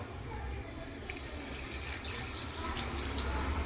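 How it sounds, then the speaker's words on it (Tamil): Water pours in a steady stream into a mint juice mixture, splashing softly and growing slightly fuller, close by with no talking. "இப்போ நம்ம கொஞ்சமாக தண்ணி ஆட் பண்ண போகிறோம்"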